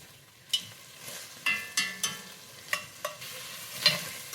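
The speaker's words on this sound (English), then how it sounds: "A medium onion chopped. And you're going to cook these just a couple of minutes." Chopped medium onion frying in a little oil in a Dutch oven, with a faint background sizzle and a series of sharp scraping stirs of a spoon against the pot, about eight strokes, close and clear.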